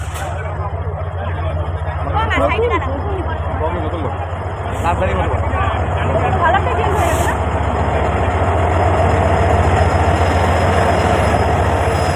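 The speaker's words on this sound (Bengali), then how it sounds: "ট্রেন চলে এসছে।" The Uttarbanga Express pulls into a station, its low steady rumble of wheels and carriages rolling close by, with squealing and clanks rising above the drone and a murmur of platform voices in the background.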